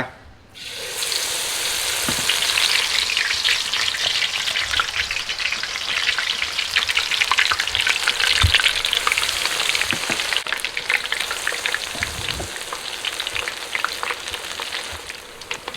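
Mushrooms deep-fry in hot oil until crisp, building from quiet into a loud, dense, bubbling sizzle that holds steady with a few occasional knocks.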